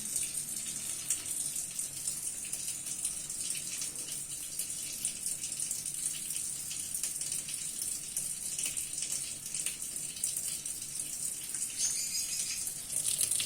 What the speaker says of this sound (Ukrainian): І вода витікає з крану.